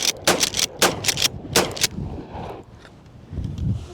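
Pump-action home defence shotgun firing birdshot, a rapid series of loud, close blasts in the first two seconds, followed by quieter handling noise.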